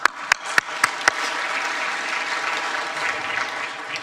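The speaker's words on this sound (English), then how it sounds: "So I'm so glad you can join us and give the applause." Audience at a high-level UN floor launch event on food security and nutrition breaking into sustained applause, opening with a few loud distinct claps before settling into a steady, even wash of clapping.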